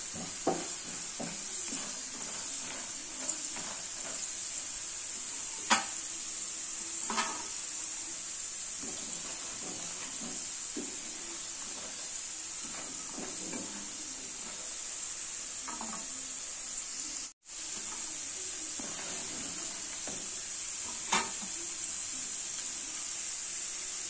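Peanuts for masala palli frying in hot oil make a continuous, bubbling sizzle with scattered stirring clicks and one brief dropout partway through, no talking.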